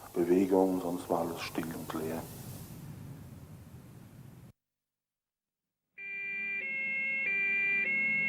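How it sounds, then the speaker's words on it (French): Police sirens wail while a police convoy escorts the accused of the Frankfurt Auschwitz trial to court. Someone narrates first, then after a brief silence the sustained, shifting tones rise steadily louder. "au son des hurlements de sirènes"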